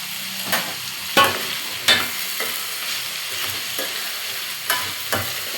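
Chayote sautéing in a pan for chutney sizzles steadily up close while a utensil scrapes and stirs it in several sharp strokes spread through the sizzle. No one speaks.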